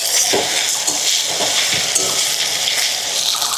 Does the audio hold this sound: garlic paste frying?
yes